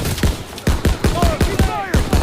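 Dense battlefield gunfire from a Call of Duty WWII battle hammers out in a quick regular volley, loud and close, with shouted voices mixed into the shooting.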